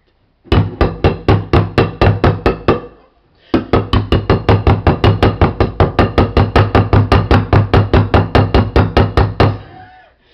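Metal can struck over and over to force it open without a can opener, a rapid run of loud, close bangs, a short pause, then a longer steady burst of evenly spaced blows.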